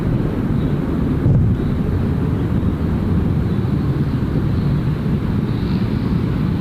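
Velocity 509 airliner landing in a crosswind at Gold Coast Airport, a loud, steady broadband roar of jet engines holding close and constant throughout, with no talk.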